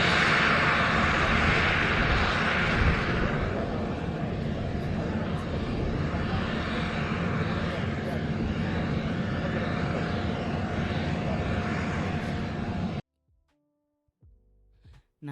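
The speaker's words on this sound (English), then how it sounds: "Now, the Hawker Hurricane is a brilliant, old, lovely little fighter there." A Hawker Hurricane fighter flies past at an air festival, its piston engine giving a loud, steady drone with a rough, throbbing low end that holds for about thirteen seconds and then cuts off abruptly.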